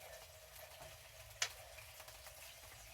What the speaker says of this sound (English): We're essentially like frying the piece of fish.